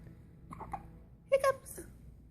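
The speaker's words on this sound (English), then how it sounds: "You have the hiccups." A child hiccups once sharply and close by, with quiet voices talking around it in a home.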